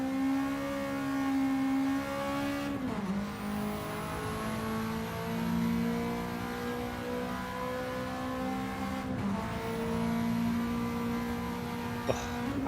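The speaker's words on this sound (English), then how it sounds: "We're on board with Nick, and we're going to have a little listen as he goes down the Hawthorne Straight" A touring car howls down the Hawthorn Straight in a sim racing game at Brands Hatch, its engine note climbing steadily through the gears with two clear upshifts, loud and alone without talk.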